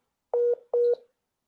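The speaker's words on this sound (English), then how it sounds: "I think his phone is connecting and reconnecting" Two short, identical electronic phone tones sound a moment apart, clear and close in otherwise silent surroundings, like a call connecting and then reconnecting.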